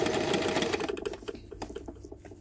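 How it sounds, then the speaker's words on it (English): Sewing machine running a long stitch through fabric, a close rapid mechanical whir that slows into separate ticking needle strokes, brief and quiet. "I'm trying to make a long stitch."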